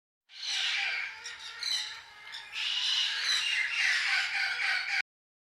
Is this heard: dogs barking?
no